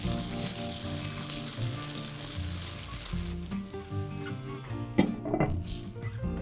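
A spice mixture of white pepper, salt, ground coriander, fennel and cumin sizzles and fries steadily in a pan, a constant close crackle with a few clinks of a utensil stirring near the end.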